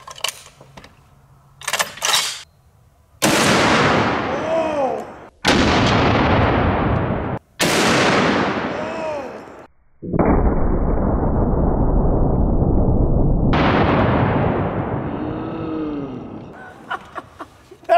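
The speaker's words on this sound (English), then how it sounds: "This is a blue tip 50 BMG. It's a pure incendiary round." Blue-tip .50 BMG incendiary rounds fired at a 150 lb slam ball outdoors: several very loud, booming rifle shots spaced a couple of seconds apart, each with a long rolling echo off the surroundings, no voices.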